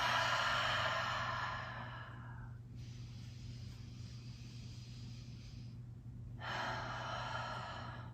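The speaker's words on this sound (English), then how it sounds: "Taking a breath or two here." Two audible breaths taken while holding a yoga stretch, a long sighing exhale at the start and another breath near the end, close and clear over a low steady hum, with no talking.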